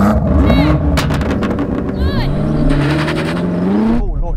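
A BMW M8 and M5 launch in a drag race, loud engines roaring and rising in pitch through hard acceleration with crackling bursts, a voice shouting over the din near the end.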